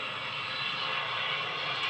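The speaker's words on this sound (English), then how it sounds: "Loud and low-flying planes continue to disrupt the peace in communities across Long Island on the arrival flight path to JFK." A loud, low-flying passenger jet on the arrival path to JFK over Long Island roars in a steady, continuous drone, close and filling the soundscape, with no talk over it.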